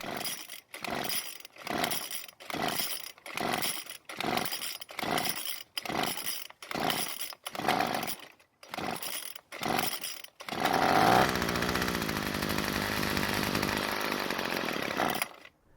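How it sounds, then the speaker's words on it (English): A flooded small engine with too much fuel sprayed into the carburetor throat is pull-started: about eleven rapid rope pulls in a steady rhythm, then it sputters and catches, running loud and rough for several seconds, close by with no talk. "it took several pulls before it even tried and start, and that's because I sprayed just a little too much fuel into the carb's throat"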